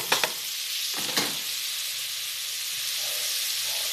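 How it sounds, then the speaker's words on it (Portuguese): Vegetables sautéing in a pan for baked rice, a loud bright continuous sizzle with a few stirring scrapes early on, then an even hiss throughout. "dá só uma refogadinha para colocar os outros ingredientes"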